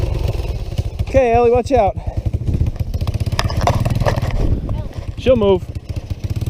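A three-wheeler motorcycle's engine catches and runs with a rough, uneven low rumble and brief revs, close by, as people talk over it throughout.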